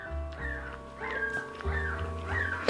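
A one-week-old newborn puppy whimpers and whines in rising, wavering cries, several short squeaky calls in a row, close and fairly soft, with a faint background hum.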